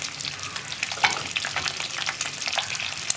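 Boiled eggs frying in hot oil for pressure cooker egg biriyani, a steady crackling sizzle with occasional louder pops and a few stirring scrapes, close and continuous.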